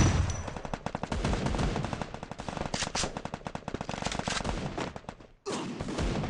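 Rapid shotgun and automatic gunfire in an online shooter game, loud dense bursts of shots for several seconds, a brief silence, then firing resumes, no speech over it.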